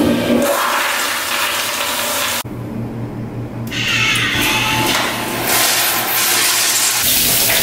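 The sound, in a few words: toilet flushing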